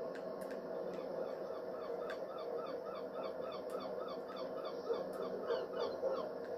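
Seagulls call repeatedly in the game Train Sim World 2020 on the East Coastway line, a steady run of short squawking cries over a constant background hum, moderately loud and continuous throughout.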